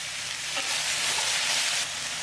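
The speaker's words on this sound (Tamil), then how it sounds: "பேனில் கொஞ்சம் எண்ணெய் சேர்த்துட்டு நம்ம ரெடி பண்ணி வச்சுருக்க மிளகாவெல்லாம் உள்ளே சேர்த்துட்டு" Steady, dense sizzling of chillies frying in oil in a pan, loud and continuous with faint stirring scrapes and no voices.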